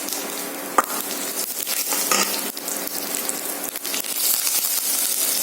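Small onions fry in a hot oil tempering with asafoetida for a groundnut green chilli chutney, giving a dense, steady sizzle close by with one brief clatter near the start and no talking.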